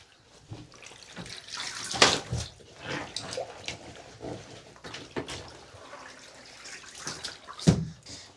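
Running water pours and splashes in bursts, like a tub filling, with a few louder splashes and no talking.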